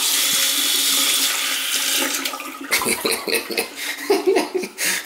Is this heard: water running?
yes